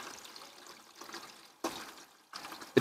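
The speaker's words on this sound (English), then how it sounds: "So I'm just going to pour some water in." Water poured into the 5-liter tank of a Makita battery-powered garden sprayer, coming as a soft trickling stream at first and then two louder, closer bursts of splashing.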